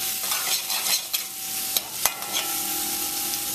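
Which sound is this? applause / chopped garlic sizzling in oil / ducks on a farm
chopped garlic sizzling in oil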